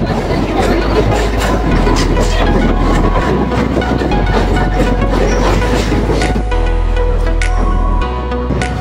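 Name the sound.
local train running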